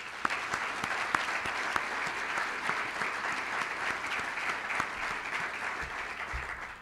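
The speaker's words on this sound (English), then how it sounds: "they deserve a round of applause" Audience at a university campus welcoming ceremony for Bloom Energy breaks into sustained applause, many hands clapping evenly for several seconds with occasional sharper claps standing out before it fades.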